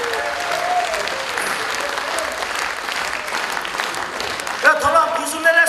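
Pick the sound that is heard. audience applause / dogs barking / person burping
audience applause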